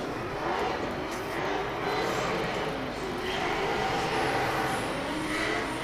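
A BMW Z3 drift car with an LS3 engine sits on the line at a British Drift Championship pro qualifying round in Birmingham, giving a loud, steady engine roar that holds for several seconds with no talk.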